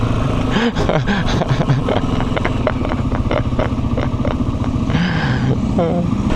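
A Janus motorcycle, a Halcyon 250 or Gryffin, revving high on a test ride, its engine buzz rising and falling under wind noise and a rider's voice talking over it.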